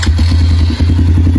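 A Nicot PT150 gasoline pit bike with a Yinxiang X150 engine runs loudly and close by, its single-cylinder exhaust pulsing in a fast, steady rhythm with a brief dip partway through.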